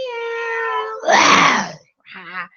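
A radio show guest imitates a cat with her voice, giving a long, tonal meow-like cry followed by a raspy, roaring burst and a short, wavering second meow, close and loud.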